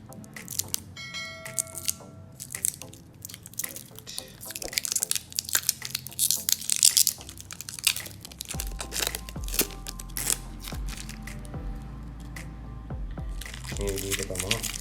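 A protective sticker is peeled off a new Aspire Gotek X vape device, giving crinkly tearing and crackling bursts that come and go under someone speaking.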